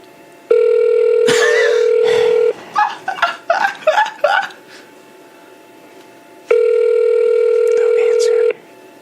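A station phone line sounds in two long, loud steady ringback tones at the start and end, with excited laughter and murmuring voices between them.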